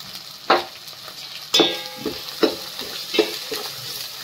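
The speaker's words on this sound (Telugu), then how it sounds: "మంచిగా ఫ్రై కావాలి. మంచిగా ఫ్రై అయింది." Coriander powder and turmeric being fried and stirred in a pan for boti fry, a soft steady sizzle punctuated by several sharp scraping clinks of the spoon, close up with no talk.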